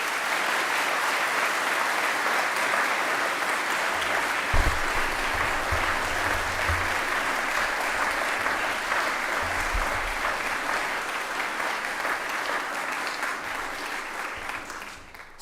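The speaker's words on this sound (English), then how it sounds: "So huge applause," A chapel audience gives long, hearty applause for a group of students, a thick, steady roar of clapping lasting about fifteen seconds with occasional low thumps, easing off at the end.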